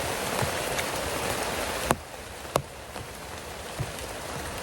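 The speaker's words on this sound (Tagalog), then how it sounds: "Umuulan na." Rain falls as a steady hiss at moderate loudness, broken by a few sharp drips or taps near the middle and later, with no voices over it.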